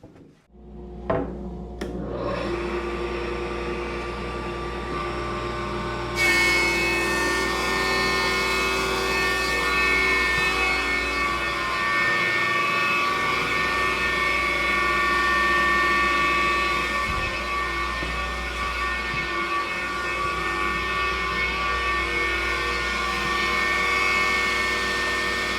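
An Oliver 10055 15-inch bench top planer starting up and feeding a board at a 1/32 cut and 12 feet per minute; a loud steady motor whine and rumble with a harsher cutting hiss joining after a few seconds.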